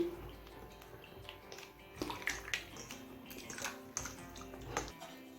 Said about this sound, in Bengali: লাউটাকে মাঝখান থেকে চার টুকরো কেটে পরিষ্কার জলে ধুয়ে নিচ্ছি